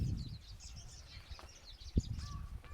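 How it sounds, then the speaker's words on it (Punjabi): Faint, scattered bird chirps and calls drift in from a distance at a historic cave and stepwell site near Anandpur Sahib, Punjab, over a low ambient rumble, with no one speaking. "ਦੇਖੋ ਤਾਂ ਪੰਛੀਆਂ ਦੀਆਂ ਆਵਾਜ਼ਾਂ"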